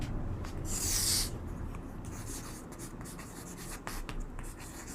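A pen scratches across paper as a formula is written out by hand for a maths lesson, with a close, continuous scratchy stroke texture and a brief louder rub near the start.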